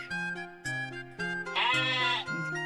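Sheep in the video game Conquests of the Longbow bleat several times in quick succession, one long wavering bleat in the middle, clear and close against background music.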